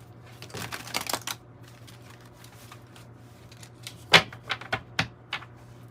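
Tarot and oracle cards are shuffled in short, crisp riffles and flicks. A burst of soft slaps comes first, and after a pause a few sharper, separate snaps follow, close and quiet, with no talking.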